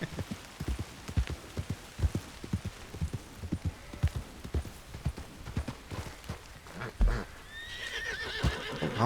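A game horse's hooves clip-clop in a steady run across most of the stretch, joined near the end by a loud whinny over a brief rainy hiss.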